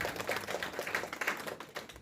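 Audience at a Shiv Katha religious discourse in Auckland clapping, a faint, scattered patter of hands in uneven bursts, fairly distant and thin.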